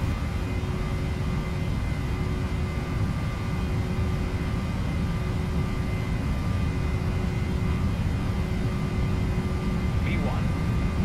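A PMDG 737NG in the FSX flight simulator rolls for takeoff as the engines give a steady, low roar with a thin whine over it, and cockpit voices talk faintly over the engine noise.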